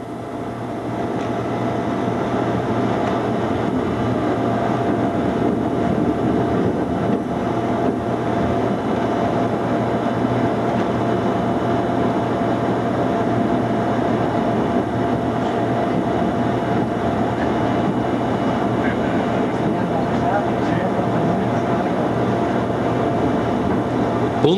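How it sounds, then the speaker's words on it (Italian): Train on the Pontebbana railway line in Italy rumbling steadily at a station crossing, a continuous loud low drone with a faint voice underneath throughout. "In stazione incrociamo il treno"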